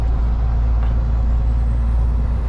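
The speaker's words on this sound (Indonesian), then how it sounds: "Ini juga truk batu bara ini banyak ini guys" Coal trucks on a road, heard as a loud, continuous low engine rumble and road roar from nearby heavy vehicles, steady throughout with no voices.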